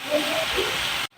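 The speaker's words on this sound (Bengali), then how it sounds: "আস্তে আস্তে করে হালকা করে ভাজবো মাছটা" Fish frying gently in white oil, giving a steady soft hiss and sizzle that stops abruptly near the end.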